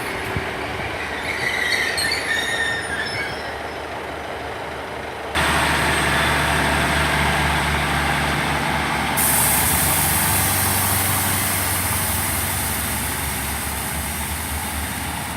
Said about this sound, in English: Departing out there is the 13:40 Great Western Railway service from Exmouth to Paignton